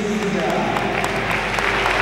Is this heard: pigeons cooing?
no